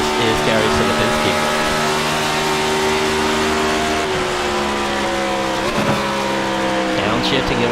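Race car engine in a racing video game, a loud steady drone broken by gear shifts and downshifts with changes in pitch, with a voice commentating over it.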